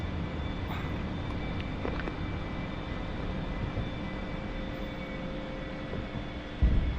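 An A-4E jet flying Blue Angels airshow solo practice in DCS World gives off a steady, broad engine roar with a faint high whine, continuous throughout and unbroken by speech.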